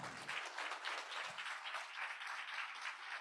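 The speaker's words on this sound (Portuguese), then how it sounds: "a Daine, que elas fiquem em pé para receber uma salva de palmas" Sustained applause from a crowd, a steady wash of many hands clapping that carries on evenly for a few seconds.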